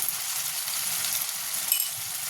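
Spice paste of green chilli and tomato with cashews and salt sautés in a pan, a steady close hiss of sizzling that holds evenly throughout with no talking.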